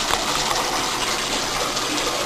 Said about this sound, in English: then just kind of let it rinse like that first